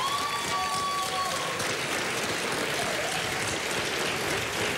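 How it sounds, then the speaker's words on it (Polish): Studio audience on a television game show applauds, a continuous dense wash of clapping that fills the room at a steady level. "Wielkie brawa"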